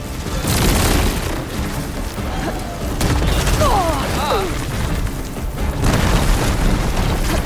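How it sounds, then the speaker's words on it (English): A plasma explosion in the video game Horizon Forbidden West: deep, loud booms and rumbling blasts roll through, mixed with sharper pops and other busy combat noise. "You got plasma on me. It's gonna explode any second."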